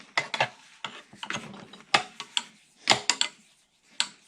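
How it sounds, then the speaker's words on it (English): A 3/4 wrench works a screw welded at the head on a Stickney 7HP stationary hit-and-miss engine carburetor, giving a series of close metallic clicks and ratcheting clanks in irregular bursts with short pauses, no speech. "Put a 3/4 wrench."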